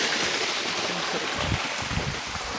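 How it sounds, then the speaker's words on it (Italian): River water flows and rushes steadily in a mountain setting at high altitude, a broad continuous wash of noise heard up close with no break. "L'acqua che scorre anche a queste altezze."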